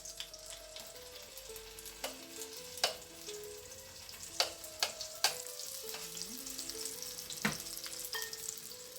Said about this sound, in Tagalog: sa the same pan at saka sa the same na mantika, piprituhin natin yung ating patatas.